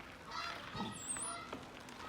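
A person's voice imitates a duck quacking, giving a few short, nasal honk-like calls that sound faint and muffled.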